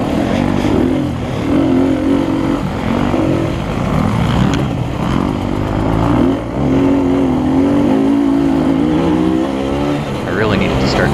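Several dirt bikes roar past on a muddy motocross track, loud overlapping engine whines and revving close by, continuous throughout with shifting pitch as riders pass.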